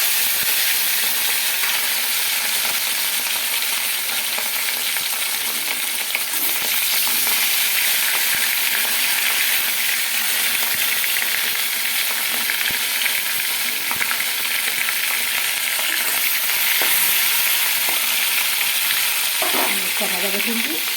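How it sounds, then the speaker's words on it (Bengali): Fish frying in a pan of oil gives a loud, continuous sizzle and crackle, with brief stirring or pan scrapes near the end. "আর ওদিকে আমি মাছটা ভাজা বসিয়ে দেবো।"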